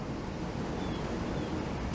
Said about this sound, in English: The gusts are over 40 miles an hour.